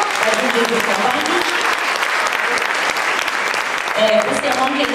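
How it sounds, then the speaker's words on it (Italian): A close, loud round of applause from an audience at a poetry presentation, honouring Marco and his classmates; continuous dense clapping for about five seconds with a few voices mixed in. "gli facciamo raggiungere un applauso ancora a Marco, a tutti i compagni"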